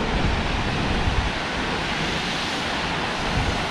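A waterfall on a short trail in Oregon gives off a steady, dense rush of falling water, loud and unbroken throughout, with no voices.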